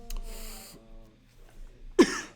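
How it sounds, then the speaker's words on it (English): A single sharp cough bursts out near the end, loud and close, after a quiet stretch of a lecture on a molecule's reaction. "I breathed in really fast and then it made me have to cough"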